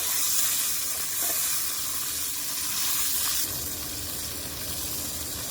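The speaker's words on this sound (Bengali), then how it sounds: "পেঁয়াজটাকে ভেজে নিই। পেঁয়াজ ভাজা হয়ে গেছে, একটু পানি দিব মশলাটা কমাতে।" Steady sizzling of onions frying in a hot pan for beef curry, a constant hiss with faint stirring, no talking.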